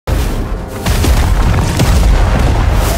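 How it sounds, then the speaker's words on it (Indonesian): Spaceship cannons fire in heavy booming blasts and rumbling explosions that overlap in a dense, loud barrage, like big cannons firing repeatedly. "puluhan kapal yang baru tiba itu menembakkan meriam ke segala penjuru pertahanan Alian Xian"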